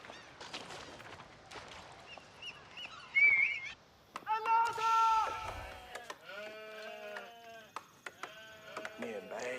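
A flock of sheep in the Age of Empires IV real-time strategy game bleat in several short, wavering calls, clustered mid-clip, mixed with sparse game interface clicks and effects and quiet talk.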